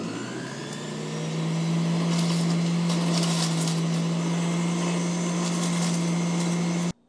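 A machine processing sea buckthorn berries runs with a steady, loud motor hum and rattling, grinding clatter on top, building up after a second and then cutting off abruptly at the end.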